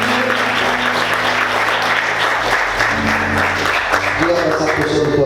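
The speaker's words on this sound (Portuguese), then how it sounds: "Bem forte, palmas." Vigorous applause from a church congregation runs thick and loud throughout, layered over sustained musical tones, with voices rising briefly toward the end.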